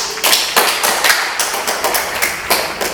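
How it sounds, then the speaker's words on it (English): Talk show audience clapping to welcome a guest, a steady run of sharp, rhythmic claps close by, fairly loud and without voices over it. "Give applause."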